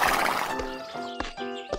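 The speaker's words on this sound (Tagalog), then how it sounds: "sumakay si Jonas sa kanyang kabayo upang mangahoy sa kagubatan." A horse whinnies loudly in a rising, wavering neigh, with clip-clop hoof beats and short snorts following, a sound effect accompanying a children's story about riding into a forest.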